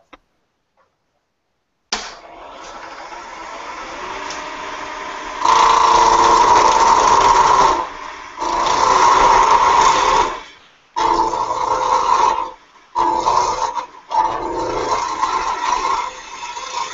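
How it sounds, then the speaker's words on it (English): A skew chisel cuts wood spinning on a lathe, giving a steady high, rasping whine that swells and breaks off in several long passes with short gaps, loud and close. "I'll take a little more off with the skew and then I'll switch to the carbide cutter"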